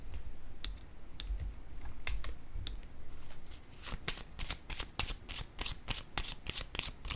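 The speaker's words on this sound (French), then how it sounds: "Je vais déposer une autre carte ici." Playing cards are handled and laid down on a table, with soft slides followed by a run of crisp, close flicks and taps that quicken toward the end.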